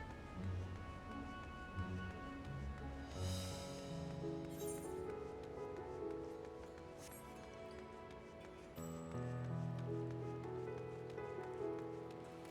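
Steady patter of rain in the video game Final Fantasy XIV, continuous and fairly soft, with a few brighter splashy bursts and faint background tones throughout.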